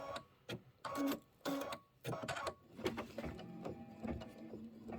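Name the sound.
embroidery machine stitching trimming guidelines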